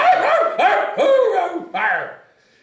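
A dog barks loudly and close by in four sharp, throaty barks in quick succession, the last trailing off into quiet.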